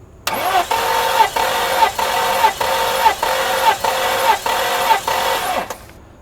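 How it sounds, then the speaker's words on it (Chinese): A Mercedes W126 560SEL engine cranks on the starter during a cylinder compression test, giving a steady, loud, rhythmic chugging of about nine even compression pulses over five seconds before stopping abruptly. "接着我们来做第二缸的缸压测试。 好，启动。"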